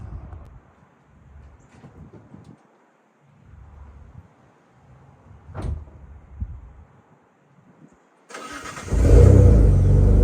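A car fitted with Airlift Performance air suspension starts up near its end, a loud, sudden roar of the engine catching after several seconds of quiet handling noises and thumps.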